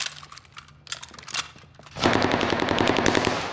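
Video game gunfire in a Caldera match: a few scattered shots and clatter, then a loud, sustained burst of rapid automatic fire that keeps going to the end, close and dense, with no speech.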